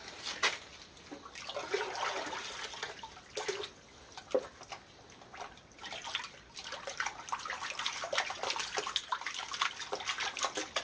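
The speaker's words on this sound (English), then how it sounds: "I gotta add a little more water because of the tailing pile in the bottom." Water poured and sloshing into a gold pan holding a pile of tailings, a steady splashy wash with brief surges and gurgles throughout.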